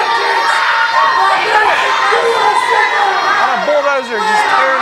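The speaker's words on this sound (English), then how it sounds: "You can't even hear the ring introduction right now over the jeers, over the disrespect of the fans for the Bulldozer." Wrestling crowd at an NWA Mountain State show jeering loudly, a dense roar of boos and shouts that fills the arena without letup.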